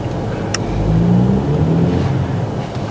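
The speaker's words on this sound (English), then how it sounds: "There's a car coming, but that's fine." A car pulls out of a driveway and drives off, its engine giving a steady, fairly loud rumble that swells slightly and holds for a few seconds, with no voices.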